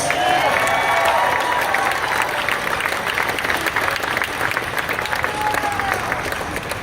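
A crowd applauds at a baseball All-Star Game announcement, with dense, sustained clapping and some cheering that stays loud throughout.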